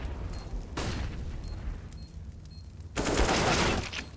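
Gunfire rips through a professional CS:GO match between Natus Vincere and Heroic on the Nuke map, with two loud bursts of rapid shots separated by quieter stretches of distant shooting and game noise.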